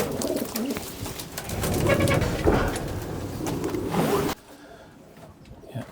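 A racing pigeon, a young prize-winning sprint hen in an English loft, coos in soft low repeated phrases close by, with faint rustling and shuffling around it.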